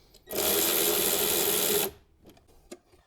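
On a 2009–2015 Honda Pilot intake, a powered 10 mm driver loosening hose clamps makes one loud, steady high whirring burst of about one and a half seconds, then faint clicks and handling noises.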